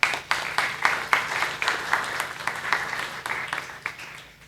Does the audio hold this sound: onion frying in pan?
no